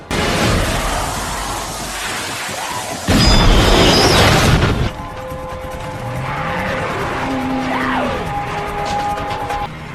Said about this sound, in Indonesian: Dengan tabung gas 3 kilonya, akhirnya CC berhasil meledakkan lautan zombie